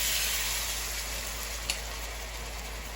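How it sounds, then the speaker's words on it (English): Wax peppers sautéing in a pan for chicken cacciatore, a steady bright sizzle throughout with one faint tap partway through. "They've been sauteing for about 3 or 4 minutes."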